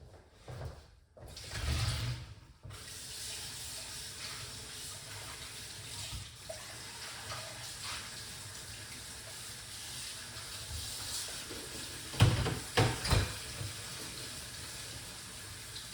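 Tap water running steadily into a sink while grapes are washed, a constant hissing stream with a few louder splashes and clatters near the end.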